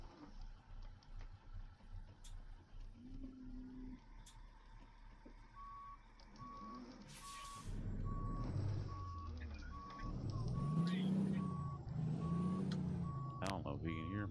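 A truck's reversing alarm beeps in an even, repeating rhythm over a low engine rumble, while voices talk throughout.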